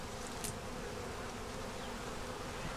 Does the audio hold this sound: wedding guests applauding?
no